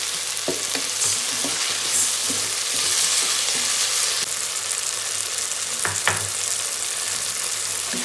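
Tomatoes sautéing with salt in a pan sizzle steadily at close range, while a stirring utensil scrapes through the soft mash in irregular strokes and no one speaks.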